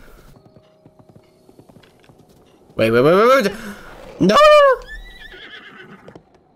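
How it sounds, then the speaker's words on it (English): A horse in Breath of the Wild neighs twice loudly in quick succession, with faint clip-clop hoofbeats and game sounds around it, while a player exclaims briefly. "I have a horse."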